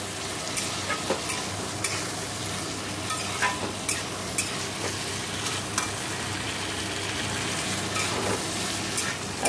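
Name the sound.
chickpeas frying and being stirred in spiced masala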